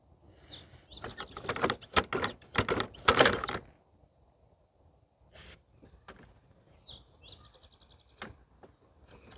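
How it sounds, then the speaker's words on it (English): A brake cable on a Toro Recycler lawnmower is worked back and forth, producing a quick run of close, sharp ratcheting clicks. After that come a few sparse mechanical ticks and faint squeaks. "Operate that brake cable a couple of times."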